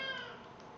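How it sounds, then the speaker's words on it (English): A house cat gives a single short meow, faint and brief, with a fading tone. "And that's my cat."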